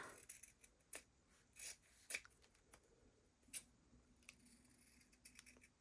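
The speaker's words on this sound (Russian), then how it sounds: "Тоже вырезаю 3 одинаковые детали." Scissors make quiet, close snips and rustles, cutting out small paper template pieces for a handmade Easter craft, in scattered soft cuts with light handling noise.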